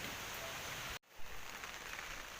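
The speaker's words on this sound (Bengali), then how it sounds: "এই যে দেখো বন্ধুরা কেমন বৃষ্টি হচ্ছে দেখো" Steady rain pours down outside at night, a dense, even hiss that briefly cuts out for a moment before resuming at the same constant level.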